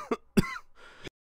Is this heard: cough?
yes